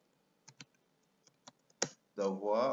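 Typing a message on a computer keyboard: a handful of separate key clicks tapped out unevenly at close range, ending as a voice starts speaking.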